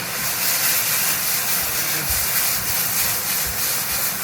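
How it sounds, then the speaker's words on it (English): Onions and peppers sizzle in oil in a pan, a loud, steady frying hiss that carries on without a break and with no talk over it. "we'll just add a little bit more oil back into the pan here. Help everything sort of fry up better."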